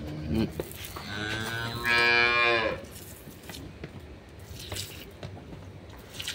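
A dairy cow on a farm lets out a long, loud moo with strong harmonic bands, followed by quieter farmyard rustling and faint background noise.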